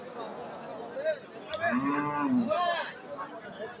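A cow moos in clear, drawn-out calls at a Bangladeshi cattle market, with a second lower bellow following a shorter first one, all fairly close over faint background murmur.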